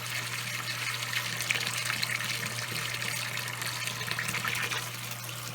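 Water flowing steadily through a hose while siphoning an aquarium, a continuous close gushing and trickling with a low steady hum underneath and no talk.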